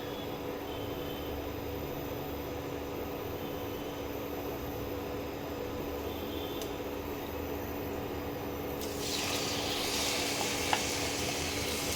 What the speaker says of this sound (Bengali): চিংড়ি মাছটা অল্প করে ভেজে নেবো